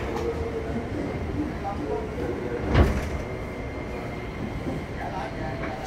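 A train at Manggarai transit station platform rumbles steadily amid busy station ambience, with a single heavier clunk partway through and a voice speaking faintly in the background.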